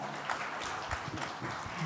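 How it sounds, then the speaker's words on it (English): A round of applause at a maritime summit, steady crowd clapping with a few voices mixed in beneath it. "Huge round of applause once more"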